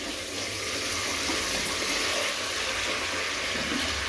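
Water poured from a tap or jug into a pan of fried chicken nihari masala, a steady, continuous rushing splash lasting several seconds, close and fairly loud with no talking.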